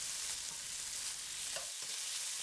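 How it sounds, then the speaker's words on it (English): Steak strips stir-fried over high heat in a pan give a steady, bright sizzle with faint stirring scrapes, close and continuous, no voices. "sound from the meat is always a satisfying sound to hear during stir frying"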